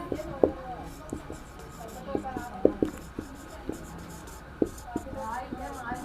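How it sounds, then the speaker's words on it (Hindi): Pen or chalk writes on a board during a Hindi lesson on the origin of the universe. Short scratchy strokes and taps come in uneven bursts while a teacher's voice talks softly in the background. "तो हम यहाँ लिखते हैं कौन सा"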